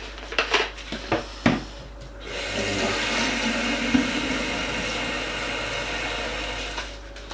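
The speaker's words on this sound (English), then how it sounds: "So let's rinse out the bottle." Water gushes into and sloshes around an emptied Oven Pride oven cleaner bottle, preceded by several sharp plastic knocks and clatters, then a steady loud rush of running water that continues to the end.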